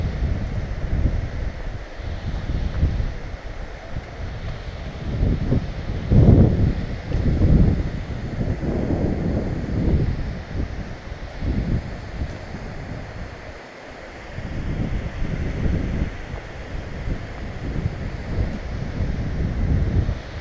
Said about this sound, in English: It's weird how you can't hear the water right around that corner and then you come around here.